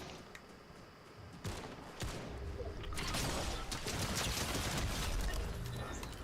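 Sniper gunfire in an online shooter game sounds as sharp cracks and a dense crackling barrage that swells after a few seconds into a loud, continuous wash of distant shots.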